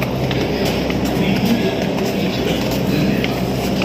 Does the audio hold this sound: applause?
no